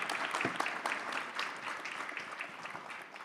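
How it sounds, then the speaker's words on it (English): An audience at a pitch competition applauds a presenter, a dense wash of many hands clapping at once, moderately loud and fairly distant, sustained and slowly easing off. "Big round of applause for Chris."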